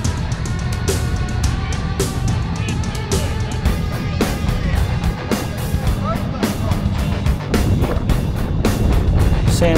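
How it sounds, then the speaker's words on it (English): A diesel Toyota Prado 4WD on 33-inch tyres drives off-road in the Flinders Ranges of South Australia, giving a continuous rumbling engine drone mixed with wind buffeting and repeated clunks and rattles from rough ground. "Sam's up in his diesel Prado on 33s"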